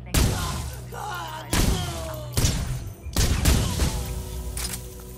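Several loud, sharp sniper-rifle gunshots in Borderlands 2 fire at irregular intervals, each followed by a ringing tail and clattering debris.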